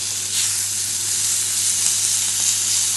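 Foie gras sizzles briefly in a hot pan alongside abalone, a steady bright frying hiss with faint crackle, close and even throughout, no talking.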